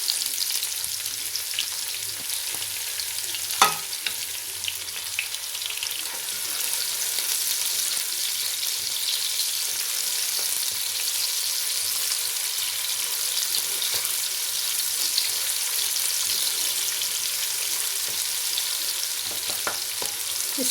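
Sliced onions fry in a pan for a Pakistani China Kohl (cabbage) dish, browning in oil. An even, continuous close-up sizzle and hiss with a couple of faint clicks, and no one speaking.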